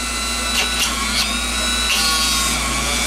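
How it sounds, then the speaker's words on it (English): A Dremel rotary tool works on a twist-lock electrolytic capacitor during restuffing prep, giving a steady high-pitched motorized whine with a few brief grinding bursts, loud and close, with no talking. "Love this Dremel."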